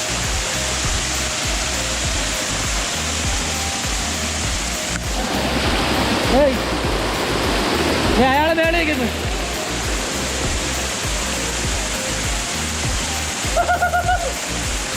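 A forest waterfall in Karnataka pours with a constant loud roaring rush that fills the whole scene, while people talk briefly over it.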